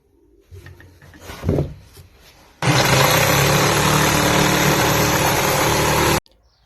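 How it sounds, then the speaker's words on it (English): A jigsaw cuts a plywood replacement board for a damaged gym bench seat, starting with a brief clatter of handling before a loud, steady buzzing cut of about three and a half seconds that stops abruptly. "I will be using the jigsaw."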